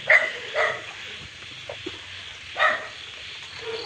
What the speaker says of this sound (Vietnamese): trong kia chó sủa